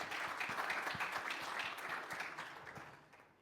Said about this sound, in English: that deserved a clap